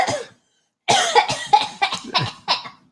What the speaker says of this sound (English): now you're making yourself cough